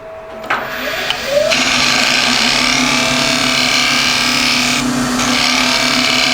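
A lathe spins a resin and wood blank for a gumnut pendant while a gouge makes a continuous cut, giving a steady, loud, close-up scraping whine over the motor hum.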